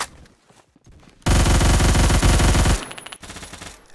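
Automatic gunfire from the Roblox shooter game Phantom Forces comes as one loud, close, rapid burst of about one and a half seconds. Quieter clicks and footsteps come before and after it.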